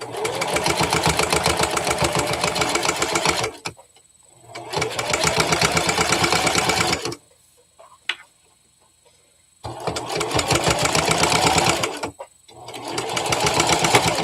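A sewing machine stitches fabric for a Momo the Mouse toy in three long fast runs of rapid mechanical whirring, separated by quiet pauses with small handling noises, close and loud.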